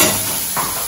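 An onion masala with turmeric and salt sautés in a pan for a South Indian lunch curry, giving a steady close sizzle and hiss with a brief stirring scrape partway through.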